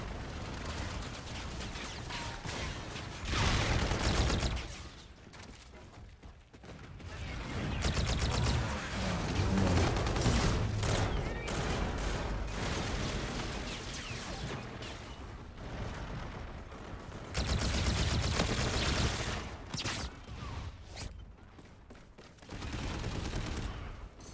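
Rapid automatic gunfire in the multiplayer shooter Call of Duty: Infinite Warfare, with dense bursts of shots recurring in waves across the clip alongside mechanical game effects, fairly loud and continuous with no talk.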